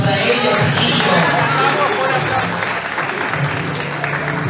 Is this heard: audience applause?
yes